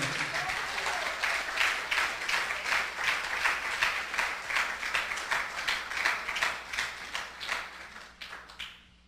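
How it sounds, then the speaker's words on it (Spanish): A church congregation applauding together, a dense rhythmic clapping in regular pulses, fairly loud and steady, thinning out and fading at the end. "Ya, hermano, déle ese aplauso al Señor."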